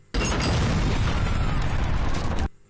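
A loud, sustained roaring explosion blast in a film, after a door is broken down, fills the clip for over two seconds, heavy with deep rumble, then cuts off abruptly.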